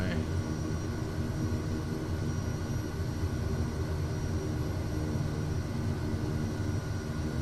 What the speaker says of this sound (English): This is one of the few turboprops that you can taxi properly because you can lower the condition lever.